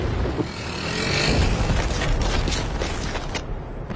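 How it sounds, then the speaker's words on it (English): A WWII artillery barrage on an archival broadcast recording, a dense, continuous roar of distant booms and rumbling fire under heavy hiss, loud and sustained without a break. "while the terrific barrage goes on around us"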